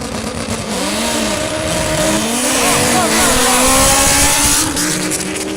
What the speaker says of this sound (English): That sounds like a B-series, doesn't it?